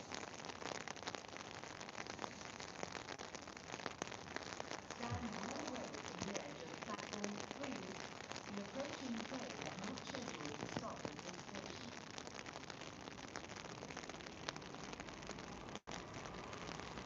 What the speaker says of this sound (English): I don't know if you can hear the rain hitting my umbrella, but it's really coming down now.